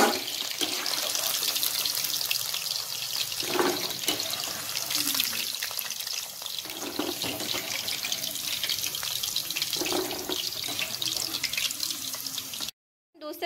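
Chicken 65 pieces frying in hot oil, a steady loud hiss and crackle that runs continuously with small bursts, then cuts off abruptly near the end.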